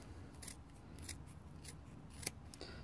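Scissors snip through yarn wrapped around a pom pom maker, several short crisp cuts at an uneven pace, close but quiet, with a soft rubbing in between and no talk.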